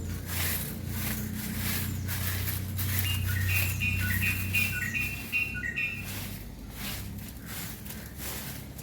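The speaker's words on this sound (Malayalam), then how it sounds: "ഇവിടെ വീട്ടിലൊക്കെ രാവിലെ മുതൽ തുടങ്ങും കേട്ടോ കിളികളെ ശബ്ദം" Small birds chirp and tweet in short repeated bursts around a home in the morning, moderately near, over a steady low background hum.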